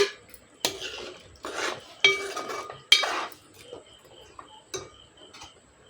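A spoon stirs farm-raised chicken curry with garam masala in a cooking pot, giving a handful of separate metallic clinks and scrapes, close and fairly quiet, with short pauses between strokes.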